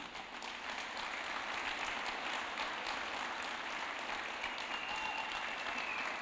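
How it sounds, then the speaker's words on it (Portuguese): A church congregation at a communion service applauds for Jesus, an even, continuous wash of clapping that sounds faint and distant, with no break across the whole stretch. "Salva de palmas para Jesus."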